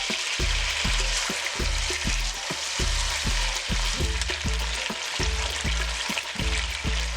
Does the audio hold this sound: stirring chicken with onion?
yes